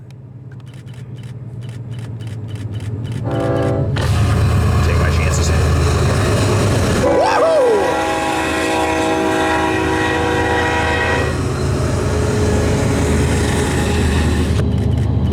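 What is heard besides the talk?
freight train with Montana Rail Link SD40-2 locomotive, horn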